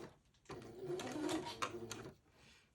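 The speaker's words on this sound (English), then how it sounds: "Sew the crotch piece down, tacking it at either end with a tiny little seam" A home sewing machine stitching the crotch piece of a baby garment runs slowly for about a second and a half, a soft close whirring with light mechanical ticks, starting and stopping quietly with no talk.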